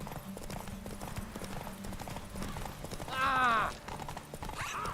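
A horse in the Witcher 3 game gallops with rapid, steady hoofbeats, and a loud whinny breaks out midway through.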